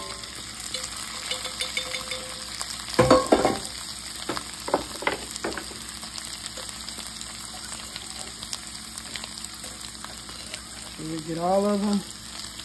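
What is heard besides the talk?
potatoes frying in vegetable oil in a pan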